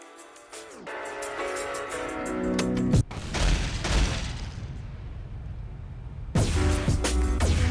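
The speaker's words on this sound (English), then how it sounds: "Team Fortress 2, more than any of its predecessors, is where the real development of explosive jumping and movement really starts" Rocket jump explosions in Team Fortress 2 go off as loud booming blasts, one sharp detonation midway followed by a rumbling tail, with game weapon sounds and a final blast near the end.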